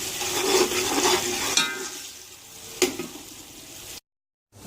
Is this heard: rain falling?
no